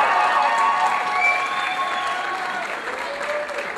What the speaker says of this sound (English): I want to hear your applause for everybody who's doing their work next door.